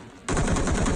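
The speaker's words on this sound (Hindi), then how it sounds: "लेकिन ये इस बंदे की आखिरी फायरिंग थी" Rapid automatic gunfire from an enemy shooting from a rooftop in PUBG Mobile, a dense rattling burst that starts suddenly and continues loud and close to the end.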